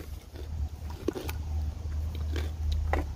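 Crunchy ration bread is bitten and chewed close up in a few separate crisp crunches over a low background hum.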